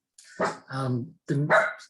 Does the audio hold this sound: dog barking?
yes